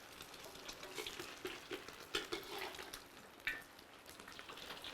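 An egg fries in hot oil in a pan, giving a soft, steady crackle with scattered pops and a few sharper spatula scrapes, quiet throughout and with no voices.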